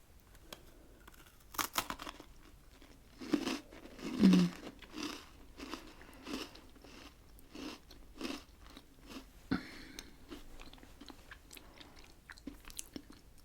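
Crisp biscuit being bitten and chewed up close, a series of sharp crunches spread irregularly over several seconds, with one louder bite near the start and quieter chewing between, with no talking.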